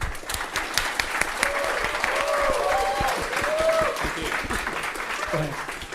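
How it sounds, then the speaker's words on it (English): A conference audience claps to welcome a speaker onto the stage, a sustained burst of applause from a crowd in a hall. A voice speaks through part of it. "please give a big round of applause and welcome Kevin"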